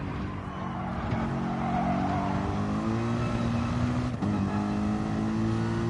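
Race car engine revving hard in second gear, a loud sustained drone with shifting pitch, close and continuous.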